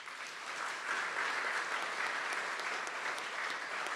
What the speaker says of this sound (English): You guys are going to get tired clapping